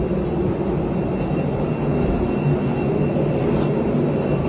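Steady, even cabin roar inside an airplane in flight, a broad constant rumble with no talk.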